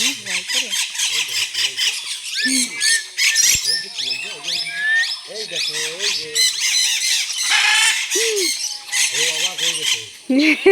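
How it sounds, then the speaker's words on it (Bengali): Parrots in a forest squawk and screech loudly and almost nonstop, harsh overlapping calls close by with several birds at once. "টিয়া বাবা এত আওয়াজ করে"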